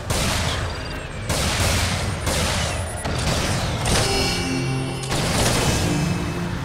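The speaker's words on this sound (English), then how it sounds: "Who's shooting me?" Video game gunfire in Ratchet and Clank: Into the Nexus, a loud, sustained barrage of rapid shots and blasts with short pauses between bursts, close and dominating the mix.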